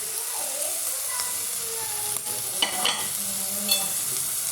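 Chicken with red spice powders sautéing in a pan gives a steady, close sizzle throughout, with a few sharper scrapes and crackles as it is stirred.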